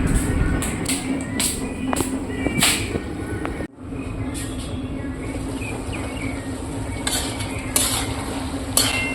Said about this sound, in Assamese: এতিয়া ইয়াত ঢাকনিখন নলগোৱাকৈ অকণমান সময় এনেদৰে ভাজি লওঁ